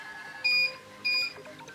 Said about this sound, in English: The Magnetone cycle itself only lasts for 60 seconds, and then the 2 beeps indicate that it's over.